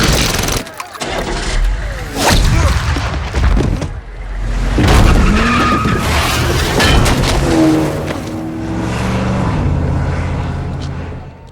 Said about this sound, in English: the boss chases after Vogel's limo, destroying it